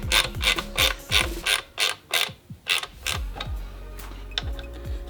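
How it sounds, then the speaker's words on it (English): Ratcheting clicks as bolts are tightened to draw a see-through clutch cover onto a Honda CBR/VFR hybrid sportbike engine, a rapid series of close metallic pawl clicks and creaks that slows and fades toward the end. "I'm just basically going to use a couple of the bolts to drive the cover onto the motor"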